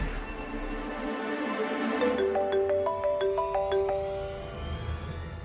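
A phone ringtone chimes in a bright, repeating melodic pattern of short tones, clear and moderately loud over a soft background hum.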